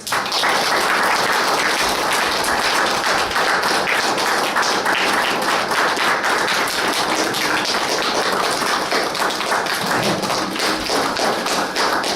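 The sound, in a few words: congregation clapping to welcome pastors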